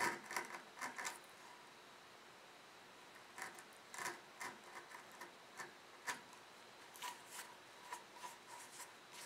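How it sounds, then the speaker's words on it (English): Wood chisel paring close to a marked line, a series of quiet, crisp scraping taps and short shaving strokes in an irregular rhythm, close and faint in a hushed room. "I'm going to take my chisel and I'm just going to come real close to the line"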